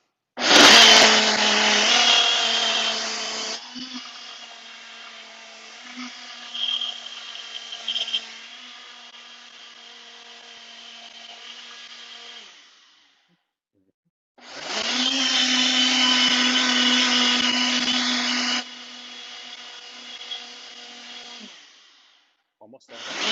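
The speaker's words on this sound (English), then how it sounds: "Now, give it the old blend up." Loud bursts from a blender whirring a banana chocolate protein smoothie: a whining run that drops to a lower churn, a pause, then a second loud burst that cuts off sharply, with brief handling noises between.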